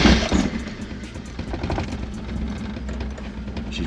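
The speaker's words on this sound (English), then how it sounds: "She's running, she's idling ish." A Mazda Miata engine, freshly repaired with coolant just added, runs at a rough, uneven idle after starting, a steady low rumble carried close and fairly loud throughout without any voices.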